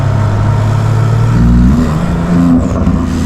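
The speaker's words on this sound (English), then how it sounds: "For the exhaust, there we go. She's a bit on the loud side now." A 1000-horsepower Porsche GT2 RS with a loud aftermarket exhaust revs steadily up and then eases off, a deep sustained engine roar close by.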